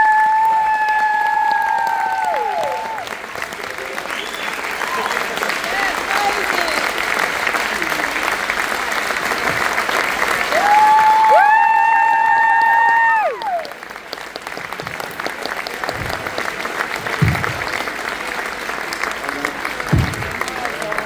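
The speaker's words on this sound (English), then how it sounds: "can we get another round of applause for these amazing men?" Convention audience applauding and cheering after a men's panel, sustained loud clapping from a large crowd with shrill whistles and whoops rising above it, swelling near the middle before settling into steady applause.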